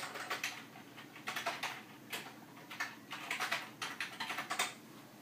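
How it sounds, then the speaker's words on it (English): Keys clatter in quick irregular bursts as someone types on a computer keyboard in a dark room beside an Altair with a floppy disk controller. The clicks are close but fairly quiet. "If I can type in the dark."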